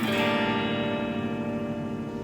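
A single strummed guitar chord in an alternate tuning rings out and slowly decays, its open strings humming together in a low, slightly unusual voicing.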